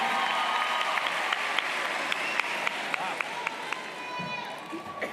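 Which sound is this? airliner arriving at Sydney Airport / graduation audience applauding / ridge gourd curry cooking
graduation audience applauding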